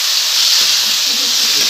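Onion, green chilli and tomato hit a hot pan for poha, giving a loud, steady hiss and sizzle that runs unbroken from start to finish.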